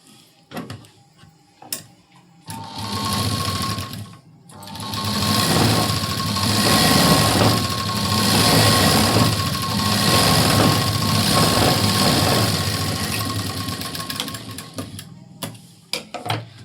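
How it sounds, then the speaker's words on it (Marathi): A sewing machine stitching a blouse sleeve along its edge runs in a long, steady mechanical whir for about ten seconds, framed by a few sharp clicks and handling knocks before and after. "आपण एकदम कडेकडेला शिलाई देऊन घेऊया"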